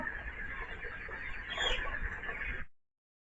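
Broiler chickens on a farm cluck in a continuous, busy chorus of overlapping calls at moderate volume, which cuts off abruptly near the end.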